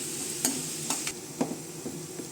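Onions with ginger garlic paste fry steadily in a pan for a chicken curry, a constant close sizzle broken by a few light stirring clacks of a spoon.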